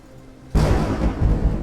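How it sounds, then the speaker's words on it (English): A thunder sound effect plays during a Dungeons & Dragons tabletop game, a sudden loud boom after a quiet half second, followed by a deep, rumbling roll that continues to the end. "as the thunder rolls"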